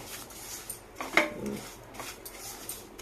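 Spoon scraping and clinking against a pan while semolina halwa is stirred, with a sharp metallic clink near the middle amid soft, quiet scraping.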